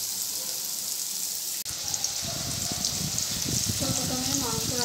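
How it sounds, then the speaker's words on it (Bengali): Bitter gourd fries in hot oil, a steady crackling sizzle throughout with a short clatter partway and stirring or scraping noises afterward. "শুধু উচ্ছেটা একটু ভেজে নেব।"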